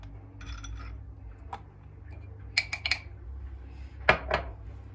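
A spoon stirs Turkish coffee in a small pot, giving a few light metallic clinks and ticks. The taps are sparse and close, over a low, quiet background hum.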